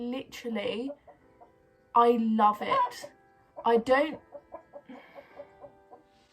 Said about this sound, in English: I actually do like having chickens.